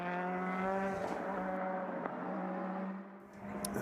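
Porsche GT race cars power through a tight, twisty final sector, their engines droning loud and steady with rising and falling harmonic tones, one brief sharp transient midway.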